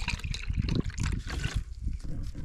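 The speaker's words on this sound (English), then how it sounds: "And you add the water, and it's an electrolyte." Water being poured onto electrolyte powder, a steady liquid trickle and splash heard up close with some low rumble underneath.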